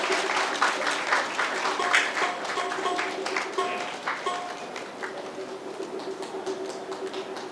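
A crowd keeps clapping at a Good Friday gathering, rhythmic many-handed applause with a tonal hum underneath, gradually easing toward the end.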